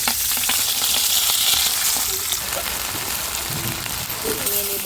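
Kola paturi, fish wrapped in banana leaf, fries in a pan with a dense, loud sizzle that holds throughout. Light clicks of handling sound over it, along with faint brief voice traces.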